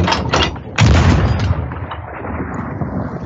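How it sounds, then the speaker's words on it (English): A ship's cannon fires a cannonball in the pirate game Sea of Thieves: a few sharp booming blasts up close, the loudest followed by a rumbling tail fading into ambient noise. "the cannonballs obviously go in the cannon. Here, I can shoot one of them now."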